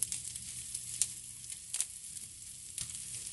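Meat for homemade gyros sizzling in a hot skillet with purple onion, a faint continuous crackling hiss with scattered sharper pops, close and quiet.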